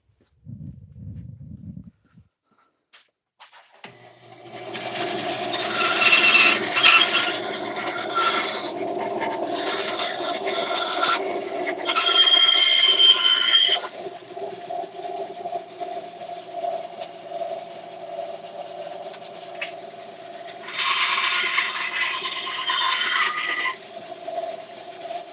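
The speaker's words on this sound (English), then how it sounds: "I'm going to grab a scrap piece of wood here to push it through the bandsaw." A bandsaw runs steadily with a low motor hum while a workpiece, pushed along by a scrap piece of wood, passes through it in a few bursts of rasping cutting noise.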